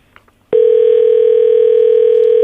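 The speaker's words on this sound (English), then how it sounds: "let's see if we get someone to answer the phone for us today. So it rings." A telephone line sounds a loud, steady ringback tone while a morning show host calls a business live on air in Barbados, starting abruptly after a brief pause and holding without a break.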